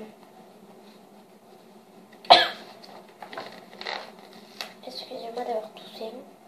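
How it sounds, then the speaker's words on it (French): One sharp cough sounds close by in a quiet room during home book-crafting, followed by soft rustling and faint murmured speech. "Excusez-moi d'avoir toussé."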